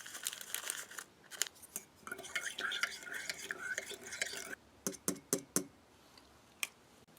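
Spoon stirring sugar into water for an Italian combat ration, a run of close scraping and clinking strokes followed by several sharp taps, fairly quiet throughout.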